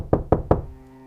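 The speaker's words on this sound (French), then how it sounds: "j'ai entendu frapper à la porte d'entrée. Un coup fort." Three loud, heavy knocks strike a front door in an even, quick rhythm, close and resonant, followed by a low lingering hum.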